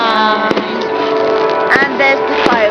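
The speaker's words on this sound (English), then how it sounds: "And there's the fireworks. These are fireworks." Fireworks at a Jubilee display in East Grinstead go off in sharp distant bangs, a few scattered pops over a constant background of crowd noise and voices.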